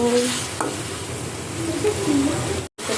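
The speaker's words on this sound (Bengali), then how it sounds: "মাছটা দিয়ে কষিয়ে নেব মাছটা কষিয়ে নিচ্ছি" Tengra fish sautéing in a pan, a dense sizzle with stirring scrapes running throughout and a brief dropout near the end.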